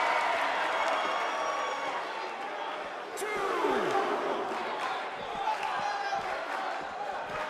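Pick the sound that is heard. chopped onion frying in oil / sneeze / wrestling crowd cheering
wrestling crowd cheering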